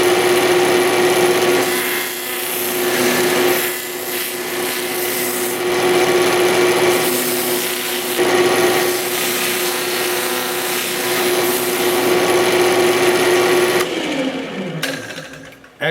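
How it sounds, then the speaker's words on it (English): A Vevor drill press drilling into wood gives a steady loud motor whine with grinding and rubbing as the bit cuts, running continuously for most of the stretch before the motor spins down near the end. "Excellent use of the drill press."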